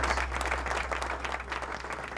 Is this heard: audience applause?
yes